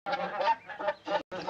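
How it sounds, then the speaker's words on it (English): Geese honk in flight in a series of close, loud nasal calls. The calls overlap in bursts, with a brief gap near the end, set in an old western scene. "they're geese, can't you hear them honking?"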